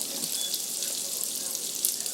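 Tap water running into a pot, used to stretch the broth while cooking jambalaya, a steady hissing stream close by and continuous for the whole stretch, with no talking over it.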